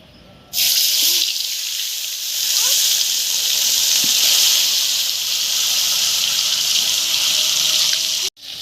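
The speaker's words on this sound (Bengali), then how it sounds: "আমি মাছ ভাজির জন্য তেল দিয়ে নিচ্ছি।" Oil heating and sizzling in a pan for frying fish, a loud, steady broadband hiss that starts abruptly and holds for several seconds before cutting off near the end.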